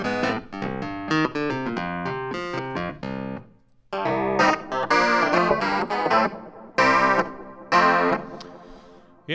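Clavinet from the Keyscape virtual instrument, played as bright, funky staccato chords and riffs with effects such as chorus and distortion, coming in punchy bursts broken by short pauses, with no speech.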